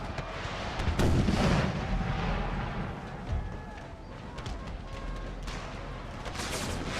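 Artillery fire in Empire: Total War with the Brothers vs. Brothers mod, a stream of distant booming volleys and crackling musketry rolling through the battle, under faint game ambience.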